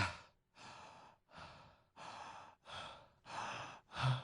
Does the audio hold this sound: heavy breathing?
yes